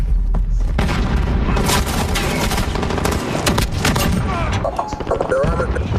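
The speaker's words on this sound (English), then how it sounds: "Oh, shotguns." Shotguns fire over and over in Call of Duty Modern Warfare, each blast booming loud and dense with overlapping shots and other gunfire, while a voice talks underneath.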